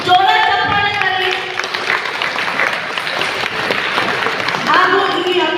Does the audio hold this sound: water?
no